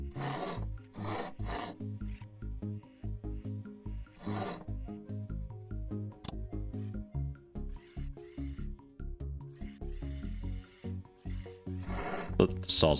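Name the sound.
saw cutting wood in video game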